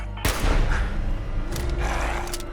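A sharp gunshot in Fallout 4 cracks out loud and near, followed by a rumbling tail and a couple of fainter later bursts, with no voices.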